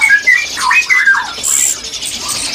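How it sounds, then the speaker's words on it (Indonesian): An orange-headed thrush calls at a bird-selling kiosk, giving a run of loud, close, squeaky whistled notes and chattering phrases that rise and fall, with no talk over them. "Ini sebelah ada burung anis merah mas."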